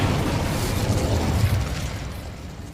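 A fire spell cast in the Hogwarts Legacy video game, heard as a sustained roaring, crackling whoosh of flame at close range that swells and then tapers off, with no voices.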